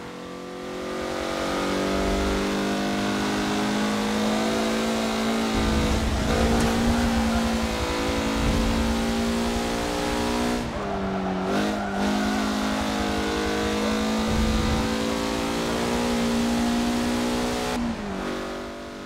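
Race car engine in the Forza racing game, loud and close, revving hard through rising pitch sweeps with sharp gear-shift drops and brief dips, sustained throughout with no talking.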